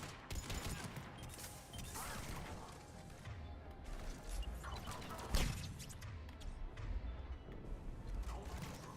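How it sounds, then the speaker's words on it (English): Sniper gunfire and combat effects in the video game Mass Effect 3 Legendary Edition, with dense overlapping shots and impacts in a continuous loud game mix, one sharper crack standing out midway. "Oh, I hear snipers."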